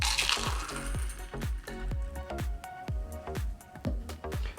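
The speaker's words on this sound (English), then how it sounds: "Grab our double rocks glass and open pour in." A shaken Mai Tai made with Richley Hogo rum is open-poured into a double rocks glass, with ice cubes clinking and tumbling loudly and close by as the liquid splashes in, in several uneven bursts.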